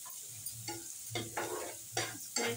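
Masala of turmeric, Kashmiri and hot chili powder frying in oil for an Odisha-style parshe fish curry, with a quiet sizzle broken by four or five scraping stir strokes, close by and with no talking.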